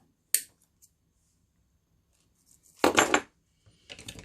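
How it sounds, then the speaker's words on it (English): Snippers cut a zip tie on a weave wreath: a sharp snip followed by a louder metallic crunch and rattle, then a few lighter clicks, close up with silence between sounds. "I'm going to take my snippers and I'm just going to clip it off"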